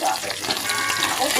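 Onion, ginger, garlic and chili sauté for adobo sa gata, a dense, continuous sizzle and crackle of frying up close, steady throughout.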